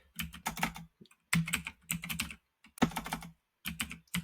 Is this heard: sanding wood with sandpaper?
no